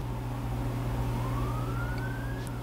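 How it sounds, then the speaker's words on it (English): Emergency sirens sound outdoors, faint and distant, with a slow rising wail heard through a steady low hum indoors. "There's legit sirens outside right now."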